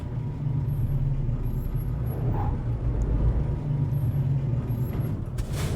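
Steady low rumble of a truck engine idling and pulling away in Euro Truck Simulator 2, with a constant droning hum and a faint hiss near the end.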